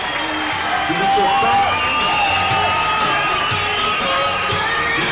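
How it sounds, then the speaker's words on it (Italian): Crowd applauding and cheering for a contestant at a 1999 local beauty pageant, with a loud steady wash of clapping and shouts while an announcer speaks over it. "Un applauso."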